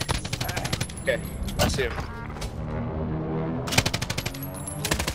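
A PKM machine gun fires in the video game Operation Monarch, with rapid sustained bursts of close, loud automatic gunfire in several stretches and a short pause between them, while a player speaks briefly.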